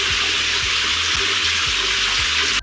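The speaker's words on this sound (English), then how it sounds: "If you'll put your hair under lukewarm water" Lukewarm tap water runs steadily as hair is rinsed under it, a constant close rushing hiss that continues without pause before stopping abruptly at the end.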